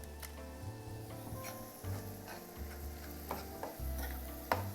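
Meat being mixed with tomato sauce and sazon in a pan, soft stirring and scraping with faint sizzle and occasional sharp utensil clicks, close and fairly quiet.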